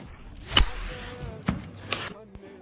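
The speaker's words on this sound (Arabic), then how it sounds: "تاني يوم بلشت بتقطيع البصل، تقطيعه حجم متوسط" Red onions being chopped on a board for Palestinian musakhan, a few distinct knife strokes spaced apart, close and moderately loud with no talk.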